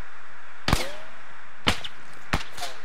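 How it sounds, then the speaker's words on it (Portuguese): Enemy gunshots in Arma 3, three sharp separate cracks spaced about a second apart, each with a short echoing tail, fairly close and with no talk over them. "Eu tô ouvindo tiro dele."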